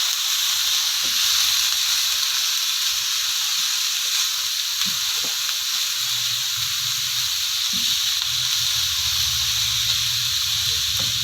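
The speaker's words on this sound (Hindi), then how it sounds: "मैं इसमें ये चिकन डाल देती हूँ।" Chicken pieces for a spring roll filling fry in a hot pan, giving off a steady, loud hiss and sizzle that holds without a break, with faint stirring knocks underneath and no talking.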